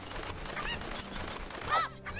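A short, nasal honking call from a chicken in the video game The Legend of Zelda: Ocarina of Time rises twice over a dense, noisy background; fairly faint and brief.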